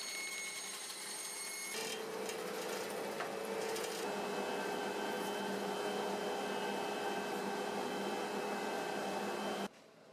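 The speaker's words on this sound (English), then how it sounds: "So I am just chopping this down at the bandsaw." A bandsaw cuts through a 36-inch roll of workbench material, a steady loud machine whine with a sharp tonal shift as the blade bites in, running continuously until it cuts off near the end.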